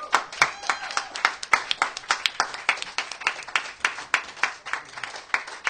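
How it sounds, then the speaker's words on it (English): A small audience at a band performance gives a round of applause, with individual claps clearly distinct in a fairly quick, uneven rhythm that carries on steadily. "Another round of applause for Mikhail Krill."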